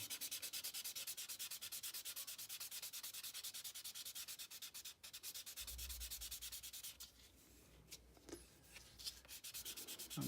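Close, faint hand sanding with roughly 600 grit sandpaper on a model car part: quick, regular rubbing strokes in a steady rhythm that slows and becomes irregular toward the end.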